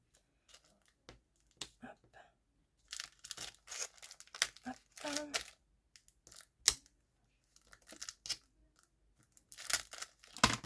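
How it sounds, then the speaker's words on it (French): A tiny sachet being torn open by hand, heard close up as short crisp bursts of tearing and crinkling plastic separated by quiet gaps. "Ah, j'ai arraché le sachet."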